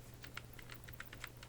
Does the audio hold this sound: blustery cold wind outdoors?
no